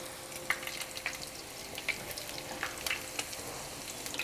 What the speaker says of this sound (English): begin to place the tacos in there and allow them to fry until they're nice and golden on both sides